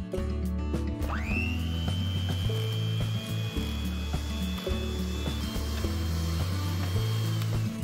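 Homemade rosemary and aloe shampoo being whisked with water in a container at home, a continuous scraping, rattling churn with uneven beats, plus a rising whine that holds steady as a tone.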